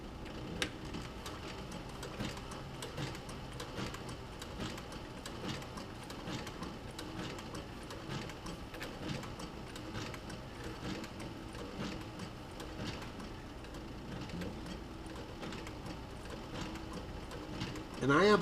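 Sewing machine back-stitching leather for a camera bag: a faint, rapid, even mechanical ticking and clatter that runs steadily throughout.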